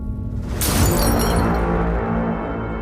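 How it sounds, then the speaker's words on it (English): A glass flies off a pub shelf and shatters in a single sharp, bright crash whose fragments ring out briefly over steady background noise, recorded by a CCTV camera. "that's when you saw the glass fly off the shelf"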